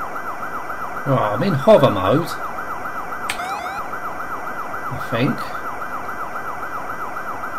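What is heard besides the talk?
vehicle siren in a video game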